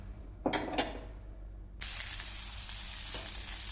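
Two sharp clinks of a utensil, then a sudden bright, steady sizzle as green moong sponge dosa batter hits a hot pan and keeps cooking, close and continuous with no voices.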